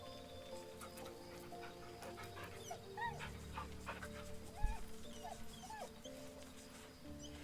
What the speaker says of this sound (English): Pet the doggy.